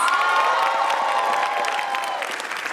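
A large audience at a radio-sponsored event applauds and cheers, dense sustained clapping and shouting that slowly thins toward the end.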